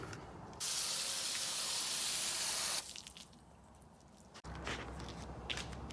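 A garden hose sprays water over the hull of a 1996 Seadoo GTI jet ski under restoration. A loud, steady hiss runs for about two seconds, then softer splashing and trickling follow.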